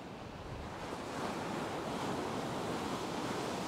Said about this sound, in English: As I get away from this corner, the waves get bigger.